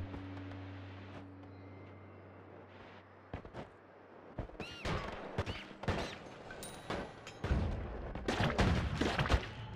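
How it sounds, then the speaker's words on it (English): A run of sharp popping bursts and crackling blasts of fireworks in the video game Noita, irregular and growing denser, over a low steady hum that drops away partway through. "Fireworks, yay."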